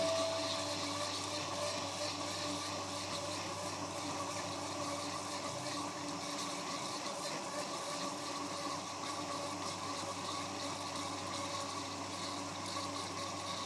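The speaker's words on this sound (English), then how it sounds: "And then it's suspended with the air of the blender" A blender runs steadily while extra virgin olive oil is slowly added to a dressing, giving a constant motor whir with a churning, liquid swirl, moderately loud and unbroken.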